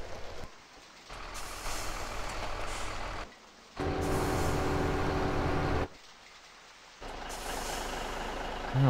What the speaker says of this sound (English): Get these trucks off the field.